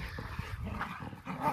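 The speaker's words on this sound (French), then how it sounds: "Des vrais gosses, ces chiens." Dogs romping and playing in sand, giving short yips, snorts and scuffling sounds at close range, busy and irregular over a brief moment with no speech.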